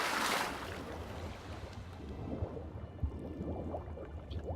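Splashing and wading through water in The Witcher 3 on Deathmarch difficulty, near White Orchard, with a loud rush at the start, then steady sloshing, watery ambience and a low rumble, with no talk.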